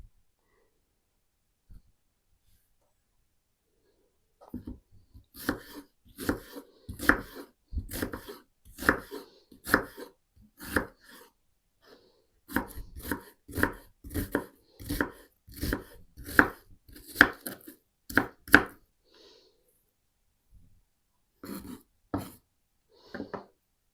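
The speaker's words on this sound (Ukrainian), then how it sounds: "Цибулю нарізаю дрібненько" A knife finely chopping onion on a cutting board in quick rhythmic bursts, a brief pause between runs, alone and close.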